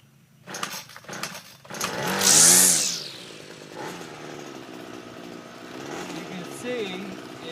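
A Ryobi string trimmer fitted with a Reel Easy head revs up and spins. Its loud, rising whine peaks and then settles into a quieter running hum, close by, with a voice briefly heard over it.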